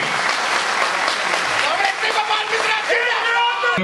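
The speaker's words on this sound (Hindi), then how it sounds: "आप सभी से निवेदन है कि जोरदार ताली बजाएं अतिथि के सम्मान में।" An audience at a railway union meeting in Bilaspur applauds the chief guest, producing loud, sustained, dense clapping with a few whoops mixed in.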